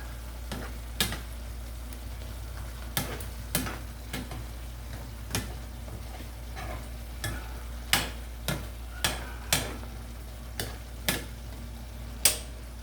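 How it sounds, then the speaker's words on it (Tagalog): Sauce in a pot gently simmering with a soft bubbling sizzle while a spoon stirs, scraping and tapping the pot rim in irregular sharp clicks over a steady low hum. "medyo pakuluin natin at medyo palalapot-laputin lang ng kaunti"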